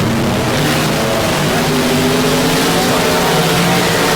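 Limited modified race cars pulling away at Texarkana 67 Speedway, a dense, loud, continuous engine drone with layered revving tones close by.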